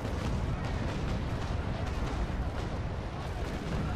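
Cannon broadside in the naval battle game Naval Action: a dense, continuous barrage of deep overlapping booms and rumbling blasts, loud and sustained with no pauses and no voices.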